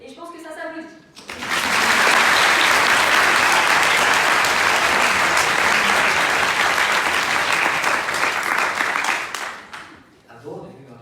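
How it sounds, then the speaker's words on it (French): A comedy-night audience breaks into sustained, dense applause after a brief stretch of talk, the clapping loud and steady for about eight seconds before tapering off as speech returns. "Et je pense que ça s'applaudit."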